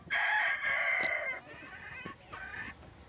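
A rooster kept with a hen crows loudly and close, one long strained call followed by a second shorter crow.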